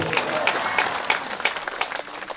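An audience at a religious lecture breaks into applause, a dense patter of many hands clapping close by that thins out toward the end.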